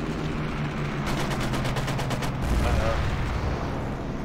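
Rapid automatic gunfire in a World War II combat video game: a loud burst of about a dozen quick shots, followed by a heavier blast, all over constant battlefield rumble.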